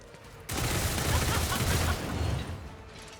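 A sudden dense burst of rapid gunfire in a Warhammer 40K game, erupting after a brief quiet moment, sustained loudly for about two seconds and then tapering off.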